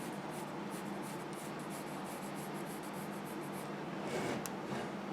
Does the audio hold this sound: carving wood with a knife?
yes